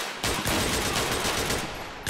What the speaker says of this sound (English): Let's shoot through this.